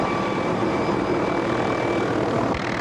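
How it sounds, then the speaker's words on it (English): A rescue helicopter hovers in gusty winds over floodwater, its engine and rotor giving a loud, steady roar with a faint whine, continuous and close. "Fighting gusty winds, the helicopter struggles to maintain its position while Cummings grabs hold of a flotation dev"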